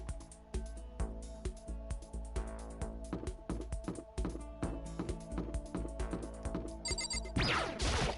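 A cell phone rings with a repeating electronic ringtone in the Danganronpa video game, alongside soft tapping clicks.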